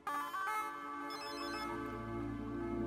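A synthetic phone ringtone plays a bright repeating melody, fairly steady and close, with no voices.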